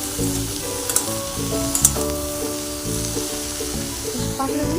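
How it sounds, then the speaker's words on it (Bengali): Vegetables sizzle in hot oil in a home kitchen, a steady crackling fry that runs throughout with a few sharp pops and stirring clinks, with no one talking. "তেল দিয়ে একটু ভাজা করবো, তারপর মশলা দেবো"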